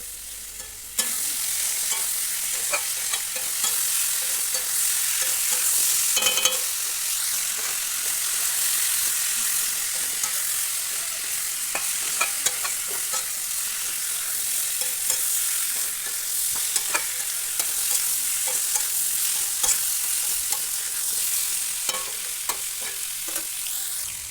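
Vegetables with salt and turmeric stir-fry in a pan, a continuous bright sizzle broken by frequent scraping and stirring clatter from the spatula, close and steady throughout with no talk.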